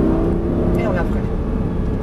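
Race car on a circuit braking into a left-hand corner, its engine droning steadily and loud throughout with a brief rising whine partway through, under an in-car voice.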